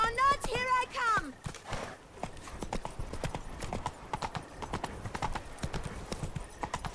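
A horse's hooves clip-clop steadily in The Witcher 3: Blood and Wine, moving at a walking pace under continuous game sound. A short burst of melodic tones opens the clip.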